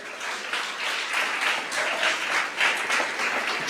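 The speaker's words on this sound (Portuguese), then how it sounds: "Você pode aplaudir ao Senhor?" A church congregation applauds steadily for a few seconds during a sermon, dense clapping filling a large room.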